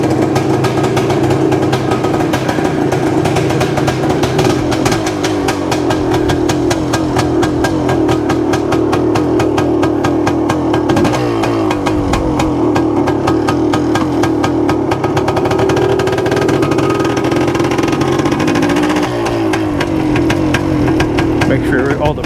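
A vintage 1978 Yamaha DT400E two-stroke motorcycle runs loudly and continuously close by, its engine buzzing and rising and falling slightly with throttle, with occasional speech over it.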